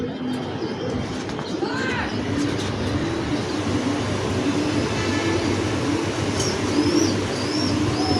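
Pigeons coo in a room in Dhaka, soft repeated calls over a dense, rumbling background murmur, with occasional higher chirps.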